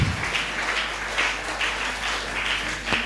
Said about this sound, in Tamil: கைத்தட்டி ஆண்டவருக்கு நன்றி சொல்லுங்கள்.